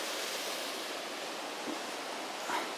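A small waterfall at Savage Gulf rushes in a steady, broadband wash of falling water that is continuous and moderately loud, with no voices.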